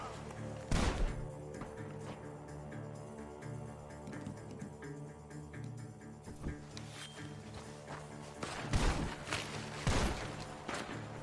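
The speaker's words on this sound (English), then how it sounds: "The gunshots are coming from that bar." Gunfire rings out from a bar in Red Dead Redemption 2, several sharp loud shots spaced apart over a busy game soundscape with a background score and some talk.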